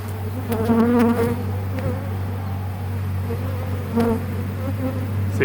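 A swarm of honey bees buzzes steadily and densely while being hand-scooped into a box, the bees fanning at the entrance, with a constant low hum throughout and occasional louder passes of single bees close by.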